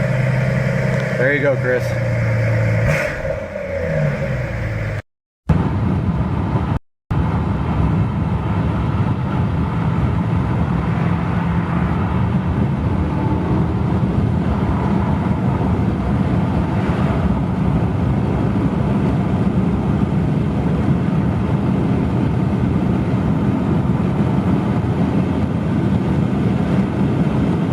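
A Mazda Miata's engine runs steadily at close range, a low rumbling drone that fills the whole stretch, with a brief spoken remark near the start and two short dropouts just after it.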